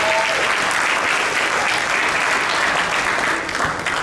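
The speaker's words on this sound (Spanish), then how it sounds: "Den un aplauso al Señor porque Él es bueno" Dense, steady applause from a church congregation at a Spanish-language Sunday service, filling the space loudly and evenly for the whole stretch with no pauses.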